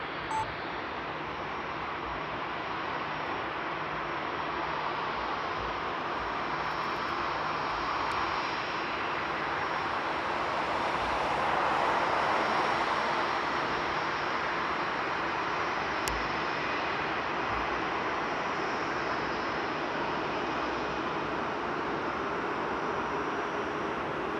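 An ANA airliner's jet engines roar steadily at Frankfurt Airport, a broad continuous rumble that swells slightly near the middle and holds for the full length with no talking.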